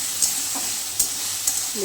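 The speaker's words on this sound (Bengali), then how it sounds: "এবার সবজিগুলো আমি একটু ভেজে নিচ্ছি" Vegetables fry in a pan with a continuous crackling sizzle, marked by occasional sharp clicks and pops, and no voices.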